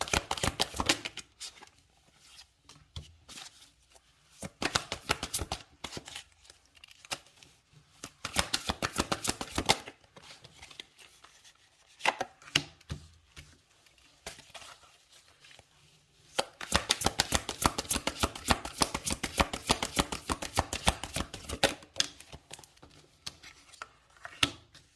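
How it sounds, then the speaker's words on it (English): Oracle cards being shuffled by hand in close, crisp bursts of riffling and slapping, alternating with quiet pauses, the longest run of shuffling near the end, no talking. "One more shuffle."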